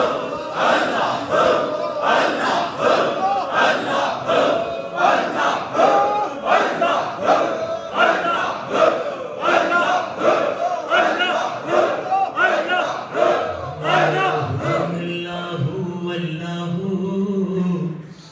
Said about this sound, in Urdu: ایک دفعہ اب آواز بلند اس انداز سے ورد کرتے ہیں کہ صدائے اللہ بلند کر دیں گے